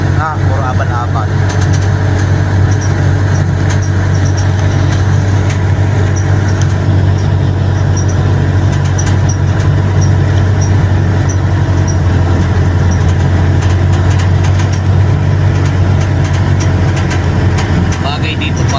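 A Kawasaki Barako motorcycle engine runs with a loud, steady low rumble and a strong droning hum, close by and continuous, while people talk over it.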